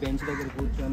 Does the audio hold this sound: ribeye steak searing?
no